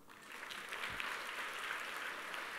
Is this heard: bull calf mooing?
no